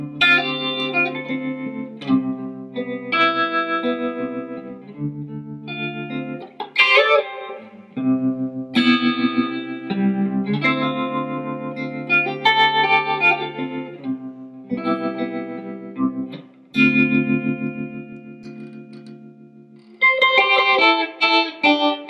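An electric guitar plays through a Strymon Mobius modulation pedal, sustained swelling chords and arpeggiated notes with a lush chorus-like shimmer and reverb tails, phrases separated by brief gaps.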